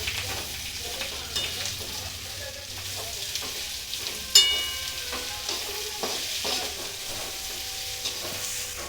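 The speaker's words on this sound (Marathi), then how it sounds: "नंतर कांदा टाकून घेतला त्यात झाला मस्त फ्राय करून घेऊया" Onions fry in a pan with bay leaf and cinnamon for chicken gravy, a steady close sizzle broken by stirring scrapes and one sharp metallic clang of utensil on pan.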